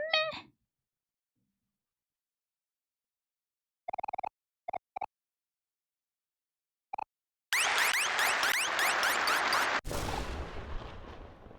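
A cartoonish cat meows once, short and close, in the OMORI video game. Long silent gaps follow, then a few soft clicks and a loud, noisy burst near the end.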